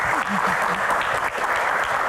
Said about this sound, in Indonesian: Tepuk tangan lagi, teman-teman.